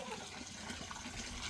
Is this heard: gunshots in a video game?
no